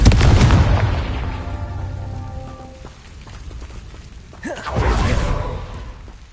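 A Confringo blasting spell explodes in Hogwarts Legacy with a heavy boom that rumbles and fades, followed by a second whooshing blast a few seconds later.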